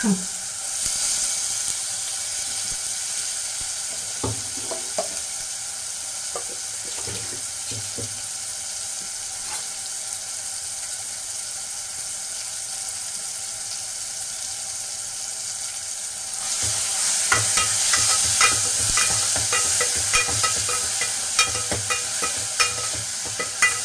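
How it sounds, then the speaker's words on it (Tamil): Ground pepper, cumin, garlic paste and dried chilies sauté in oil, a constant close frying hiss with occasional stirring taps and scrapes, getting louder and brighter partway through, and no voices. "கொஞ்சம் எண்ணெயில் வதக்கணும்"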